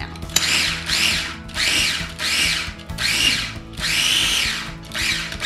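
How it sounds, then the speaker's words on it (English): A food processor pulses sweet potato noodle sauce ingredients for a Thai almond butter sauce, giving loud whirring bursts of about half a second to a second each, separated by brief pauses, with no talking. "we're gonna pulse our food processor just to get everything blended or chopped"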